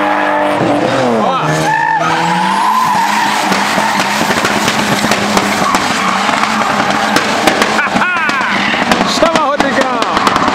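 A Chevrolet Chevette drifts sideways around a kart track at Kartódromo de Aldeia da Serra, with loud, continuous tire skidding and squealing over a straining engine, while spectators talk and shout throughout.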